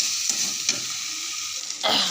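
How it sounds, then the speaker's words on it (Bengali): Turmeric, salt and spices sizzle in oil rendered from catla fish, with steady frying hiss, a couple of spatula scrapes and a louder burst of sizzling as the stirring picks up at the end. "মাছের তেলগুলো দিয়ে মশলা দিয়ে কষিয়ে নিলাম।"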